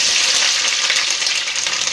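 Chopped onion drops into hot oil in a pan and sizzles loudly and steadily, a dense unbroken hiss with no talking.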